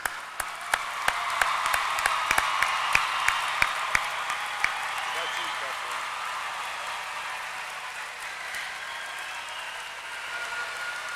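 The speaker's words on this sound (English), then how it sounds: "Please join me in giving all these graduates a round of applause." An audience applauds the graduates at a high school graduation ceremony for the Class of 2003, sharp claps opening the sustained clapping that then fades to a softer, steady patter, heard from a distance with no talking.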